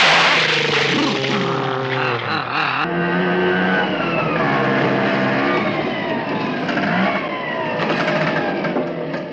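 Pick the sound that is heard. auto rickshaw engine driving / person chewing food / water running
auto rickshaw engine driving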